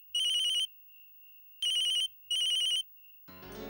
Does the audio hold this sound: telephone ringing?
yes